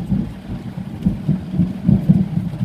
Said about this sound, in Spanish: qué pedazo de trueno ha caído